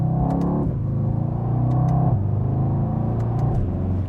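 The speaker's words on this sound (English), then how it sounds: "just to give you a quick example how fast it shifts, listen to that." A Mercedes-Benz E63S AMG with a Brabus kit and nine-speed MCT transmission revs hard and close, its engine note dropping sharply at each quick gear change, with several shifts in rapid succession and no talk.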